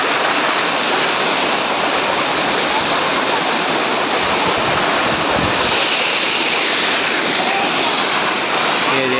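A waterfall at Amarkantak crashes in a loud, dense, unbroken roar that fills the whole scene from close range and drowns out every other sound.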